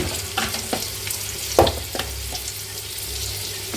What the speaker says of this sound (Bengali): একটু পেঁয়াজটা হালকা বাদামি কালার করছি।